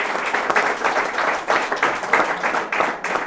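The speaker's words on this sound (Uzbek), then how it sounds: "Qarsaklaringiz." A studio audience at a comedy game show applauds the winner, a dense, loud burst of many hands clapping that swells and pulses for several seconds.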